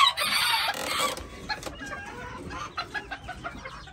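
Old English game and Azteca bantam chickens cluck nearby in a quick, busy chatter. A brief crowing-like call opens the scene before the softer clucks take over.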